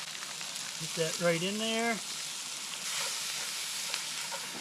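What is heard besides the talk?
bear meat sizzling in Dutch oven over wood fire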